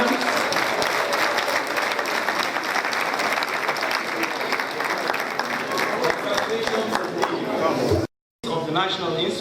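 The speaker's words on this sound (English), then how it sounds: "Please let's have a bigger round of applause than that for the graduates." A graduation ceremony audience gives sustained, heavy applause for the graduates, a full crowd clapping continuously before a brief gap and a voice speaking over the hall.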